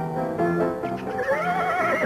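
Loud, close horse neigh, a wavering whinny that rises and trembles for about two seconds in an old wine advertisement.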